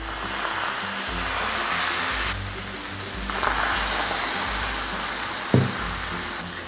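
Jowar flour dosa batter sizzling on a hot pan, a steady crackling hiss like rain that swells and eases as it is spread with a spoon, with a brief clink near the end.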